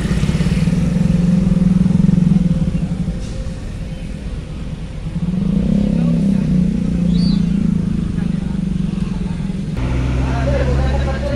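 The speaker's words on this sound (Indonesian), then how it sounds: "Rombongan motor nih, suruh putar balik." A convoy of motorcycles turning back at Bakauheni port gives a steady, loud engine drone with swelling revs and passing rumbles, joined by nearby road traffic, while a person talks over it.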